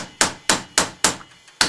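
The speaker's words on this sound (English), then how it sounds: "Take your hammer and just start rotating it" A hammer taps a copper cap onto a flintknapping bopper, striking it five times in a steady, close, sharp metallic rhythm while the cap is rotated.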